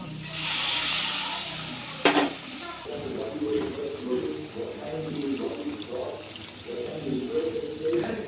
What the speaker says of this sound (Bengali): মশলা কষানো হয়ে গেছে এখন আমি জল ঢেলে দেবো